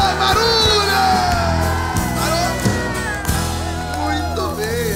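Crowd at a sertaneja festival with viola orchestra yells and whoops loudly, sustained voices layered over lingering music throughout.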